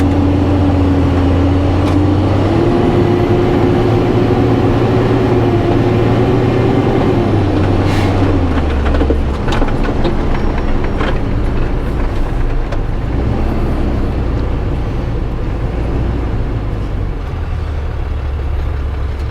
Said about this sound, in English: we don't have to try to jump across traffic with this big old slow truck with a load on the back